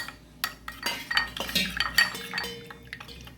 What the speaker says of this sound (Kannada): ಅಕ್ಕಿ ಹುಡಿಯನ್ನು ಸ್ವಲ್ಪ ಸ್ಲರಿ ಮಾಡ್ಕೊಳ್ಳೋಣ, ಸ್ವಲ್ಪ ಅಷ್ಟೇ.